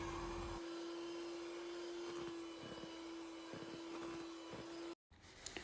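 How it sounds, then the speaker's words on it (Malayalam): Electric hand mixer beating cake batter with eggs and vanilla essence for a Kerala plum cake, a steady motor whine running continuously, close and fairly loud, cutting out near the end. "1 ടീസ്പൂൺ വാനില എസൻസ് കൂടി ചേർത്ത് നന്നായി ബീറ്റ് ചെയ്യാം."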